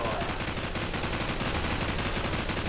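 Rapid automatic gunfire from the Call of Duty 4 shooter game, a steady rattling stream of shots, loud and continuous across the whole burst with no talk.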